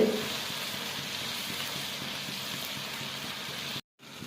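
Finely chopped tomatoes frying in a pan for chicken biryani, a steady, moderate sizzle that holds evenly, then cuts out abruptly near the end before briefly returning.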